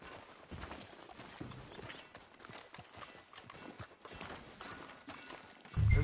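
Horse hooves clip-clopping at a walk on a town street in the Red Dead Redemption 2 video game, a steady rhythmic clatter over ambient background, ending with a louder low thump.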